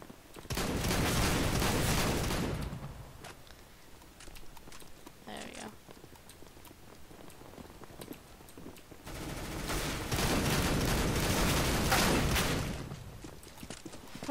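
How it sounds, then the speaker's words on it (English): CS:GO gunfire arrives in two heavy, dense bursts of rapid shots with quieter scattered pops and cracks in between, loud and close. "As I hear a bullet go straight by my head."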